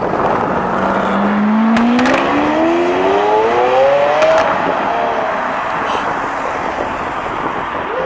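A Lamborghini Aventador supercar drives past on a road, its engine note climbing steadily in pitch as it accelerates, loud and fairly near, over background traffic noise.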